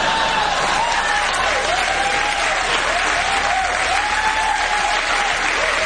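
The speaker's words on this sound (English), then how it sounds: "That's a laugh track, cheer track, soundtrack." A canned TV cheer and applause track: dense, continuous crowd clapping and whooping, loud and steady throughout with no pauses.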